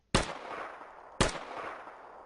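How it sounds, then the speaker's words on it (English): Two sharp, loud gunshots from a modded gun in Minecraft 1.12.2, about a second apart, each one a hard crack with a short fading tail. "you can also hear the distinct gun reload sound and shot too"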